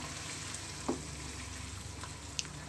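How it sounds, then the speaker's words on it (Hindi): Boiled beef stirred into sizzling arvi gosht masala in a pan, a steady hiss of frying oil with a few soft clinks and scrapes of the spoon, close and continuous. "अब हम इसमें ऐड कर देंगे बीफ बॉईल किया हुआ। इसे अच्छे से मिक्स कर लेंगे।"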